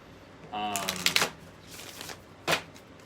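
A deck of tarot cards is shuffled in a few quick riffling bursts, close and moderately loud, followed by a short pause and one more brief flick of cards.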